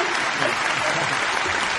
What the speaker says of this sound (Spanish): Pónganme, por favor, los aplausos